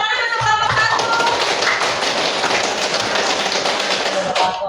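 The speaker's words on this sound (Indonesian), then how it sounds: "Oke, tepuk tangan untuk kelompok" A classroom of students claps for group 1 after its presentation, a loud, close, continuous patter of many hands that lasts several seconds, with no talk over it.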